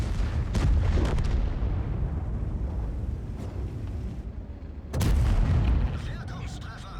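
Close, heavy tank-cannon impacts ring out in a World of Tanks match as a shell bounces off armor, with a loud boom near the start, another sharp blast around five seconds, and low engine rumble under a voice.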